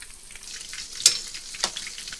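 Chicken legs fry in a pan with a soft, steady sizzle and hiss, marked by two brief crackling pops and a faint stir, close by and fairly quiet, with no voices.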